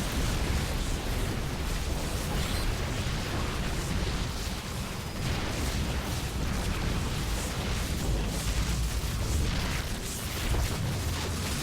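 Continuous rumbling explosions and booms as cannons are destroyed in a video game, roaring loudly and densely, one blast running into the next with no pauses.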